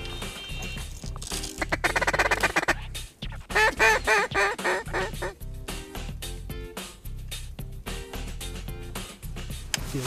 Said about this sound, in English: Duck to the right.